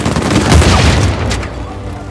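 A burst of gunfire in Uncharted 4: A Thief's End, set in New Devon: dense, loud shots and booms crowding together over about two seconds, with a voice partly audible beneath.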